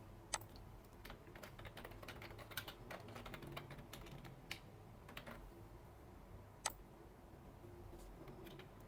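Someone types on a computer keyboard while filling in an online registration form: quiet, close, steady clicking with a few sharper key strikes and no speech.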